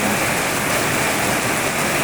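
Heavy rain on a flooded rainy day pours in a dense, loud, unbroken hiss with no pauses.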